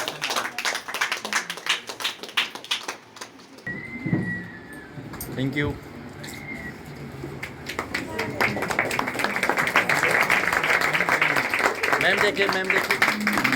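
Audience at a women's empowerment tailoring centre event clapping to welcome a teacher, scattered claps building into sustained applause that grows louder toward the end, with people talking over it.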